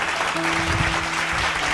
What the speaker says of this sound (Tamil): கைத்தட்டி கொண்டவர்